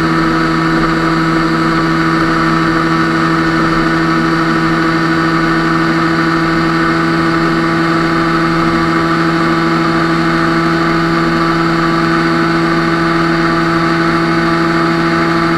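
A 125cc two-stroke motorcycle engine with a seven-speed gearbox holds a loud, steady, buzzing drone at high revs, close and unbroken throughout, with no speech over it.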